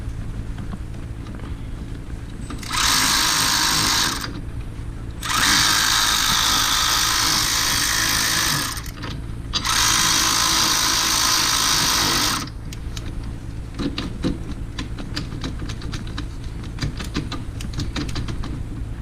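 A power tool snugs lift kit bolts on an EzGo golf cart in three loud, steady bursts of a few seconds each, separated by short pauses and followed by quieter clinking and handling noises.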